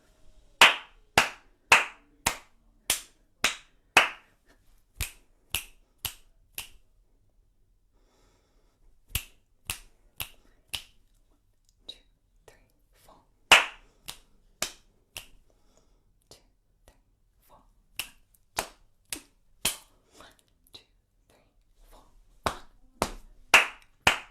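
Rhythmic hand clapping mixed with finger clicks during an upper-voice singing warm-up, sharp claps in quick groups separated by short pauses, some sections softer and sparser, no voices over them.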